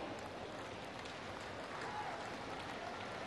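Steady, sustained applause from a large audience at a ceremony in Varanasi where PM Narendra Modi lays foundation stones. It rolls on evenly with a faint voice beneath the clapping.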